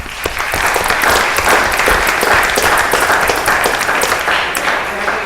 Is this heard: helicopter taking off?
no